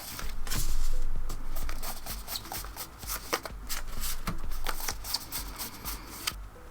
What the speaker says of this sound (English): Start by splitting the deck into its 4 suits and give them a shuffle.